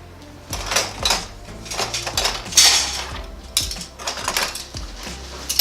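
Spoons and other cutlery clink and rattle against each other and kitchen surfaces while cabinets are being sorted, in a series of close, irregular metallic jingles and clatters without talk.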